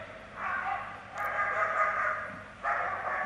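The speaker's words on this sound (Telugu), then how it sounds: "German shepherd dog female tracker విభాగానికి చెందినటువంటి డాగ్." A female German Shepherd police tracker dog with a city security unit barks in a few short bursts, close by and moderately loud, with quiet pauses between.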